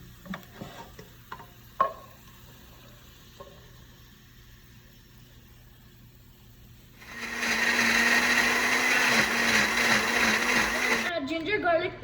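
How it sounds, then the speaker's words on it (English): Blender purees tomatoes and onions for chicken curry: a few light knocks and clatter first, then a loud, steady motor whir that runs several seconds before stopping abruptly near the end. "add the tomatoes and onions in the blender and blend it"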